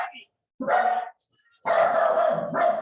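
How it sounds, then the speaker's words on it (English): A dog barks in two loud, close bursts separated by a short pause, during a winter bootcamp workout session. "Why are you still barking?"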